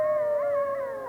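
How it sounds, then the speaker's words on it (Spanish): A coyote howls at night in a long sustained wail that rises and bends slightly, fairly faint and alone with no voices. "Los coyotes seguían aullando."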